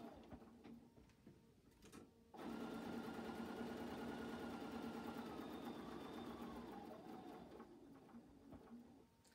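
A sewing machine backstitches a cloth face mask. It starts abruptly after a quiet moment and runs in a steady, fast mechanical whir for about five seconds before winding down.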